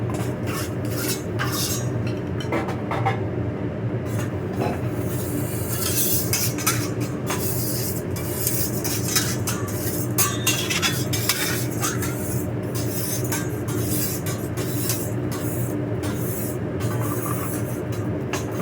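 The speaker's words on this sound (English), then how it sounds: "I'm gonna clean my grill so I don't have as much and it looks clean and neat" Metal utensils scraping and clinking across a cooking grill while cleaning off leftover rice, a steady busy scraping over a constant loud background hum, with no talking.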